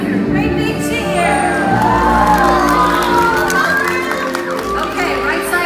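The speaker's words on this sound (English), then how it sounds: "So let's give her a great big cheer." A stadium audience at a killer whale show cheers, whoops and shouts loudly and continuously for the orca Malia's big bow jump, with children's voices prominent in the crowd.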